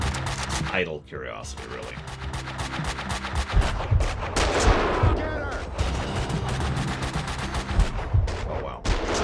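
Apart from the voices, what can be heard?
gunshots in the video game Max Payne 2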